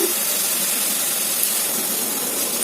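Rice flour mixture with dry fruits frying in a pan, giving a steady, dense sizzle and hiss that holds evenly close by throughout, with no talking.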